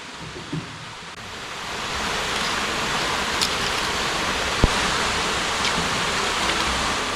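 A waterfall pours into the Yongtang pool in Sibiseonnyeotang valley on Seoraksan, a steady hissing rush of falling water heard alone, with a couple of faint clicks.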